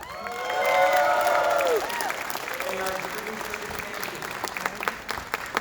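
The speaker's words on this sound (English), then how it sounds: "Let's give it up for our champions, Assemblymember Harvey Epstein and Senator A" A rally crowd at a New York disability services action day bursts into applause with cheers and whoops, swelling early then settling into steady clapping, with a voice briefly rising over it.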